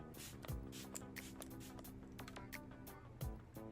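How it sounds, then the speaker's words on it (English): MAC Studio Fix Prep+Prime face spray misted onto the face in a few quick, soft hissing bursts, close and quiet. "I go in with a Studio Fix Prep+Prime by MAC. It's a pretty strong spray"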